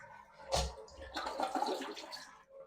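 A Kohler toilet in a hotel bathroom flushes: a sharp whoosh opens, then a turbulent rush of swirling water runs on for a couple of seconds, close and fairly loud.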